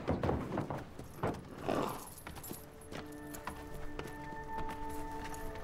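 Bay horses' hooves clip-clop in a few uneven strikes at a racing stable, fairly quiet and close, with a faint jangle and some steady tonal background noise later on.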